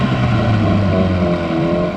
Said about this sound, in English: Come on, little engine.